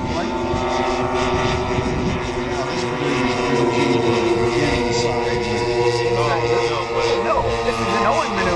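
Several engines of a radio-controlled B-29 bomber model drone steadily through a loop at an RC airshow, their buzzing tone shifting as the power is pulled back, with a commentator talking over it.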